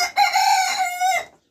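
A young, healthy rooster on a farm gives a single close, loud crow that lasts just over a second and stands clear and alone.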